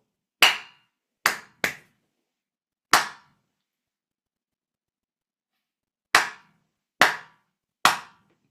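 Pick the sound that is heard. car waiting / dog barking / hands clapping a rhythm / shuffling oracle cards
hands clapping a rhythm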